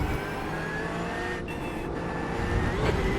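Porsche GT3 race car engine in the iRacing sim during a GT3 Open race, a steady droning roar held at constant loudness for a few seconds, with brief dips where the note drops before the engine picks back up.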